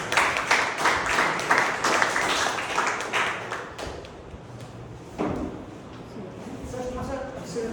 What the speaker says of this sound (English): please welcome Toastmaster Siddharth with great round of applause.